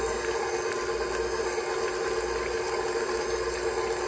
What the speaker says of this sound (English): I slowly added in my water.